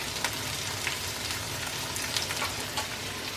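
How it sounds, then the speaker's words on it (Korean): Pork belly stir-frying in a pan, a steady close sizzle and crackle with soft scraping stirs, continuous and fairly loud with no voices. "볶아."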